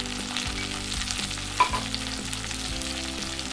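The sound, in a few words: tomatoes sautéing for vendakkai kara kuzhambu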